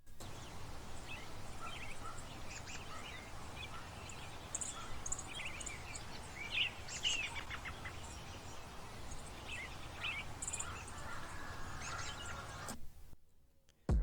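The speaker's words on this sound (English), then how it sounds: "I added a bird texture to add movement and ambience to the sample" Soft, continuous bird chirps and tweets used as a texture layered over a low, steady music sample, cutting off abruptly near the end.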